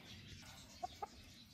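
A white chicken gives two short, clear clucks close by over a steady background murmur, with no voices heard.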